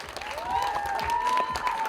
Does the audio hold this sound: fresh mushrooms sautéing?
no